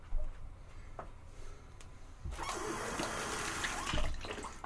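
Water pours into a shaving bowl, a soft splashing trickle that swells after a quiet start and runs steadily to the end, close by with no talk.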